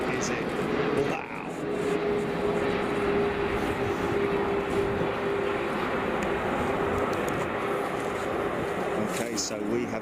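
A Boeing 747 jet at Frankfurt Airport roars steadily and loudly through the whole stretch, a broad continuous engine rumble with a faint tonal whine, while people talk over it.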